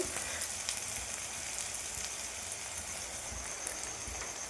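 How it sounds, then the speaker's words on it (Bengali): Sliced onion frying lightly in hot oil, a continuous soft crackling sizzle throughout, moderately close with no voices. "এই দেখো পেঁয়াজটা হালকা করে ভেজে নেব"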